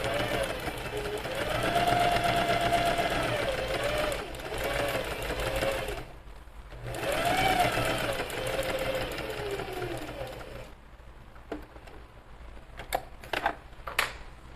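Sewing machine running a straight seam on a bag with a built-in pocket, a steady loud mechanical whir in long runs broken by short pauses as it starts with a backstitch, followed by a few separate clicks.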